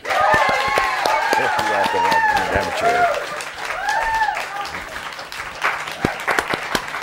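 An audience applauds to welcome guest Perry Polson, a full burst of clapping from a crowd, with a voice whooping and calling over it before the applause thins toward the end.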